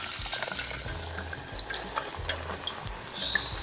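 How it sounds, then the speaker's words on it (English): Potatoes being lowered into hot oil for Portuguese-style steak, frying with a steady close sizzle and bubbling, brief stirring clatter and scraping over the hiss. "lower them into the oil"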